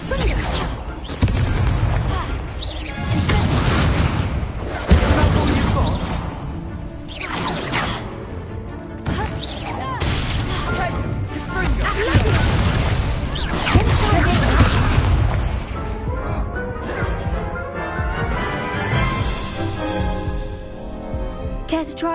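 Spell blasts from the Hogwarts Legacy video game: a run of booming explosions and whooshing bursts. They hit at irregular intervals, loud and fairly close, and trail off into fainter crackles toward the end.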